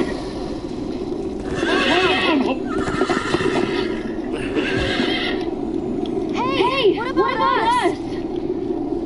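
Horses in the Minecraft: Story Mode video game neigh and whinny repeatedly with rising and falling cries over steady hoof clatter and a constant game background, loud and close, while people talk.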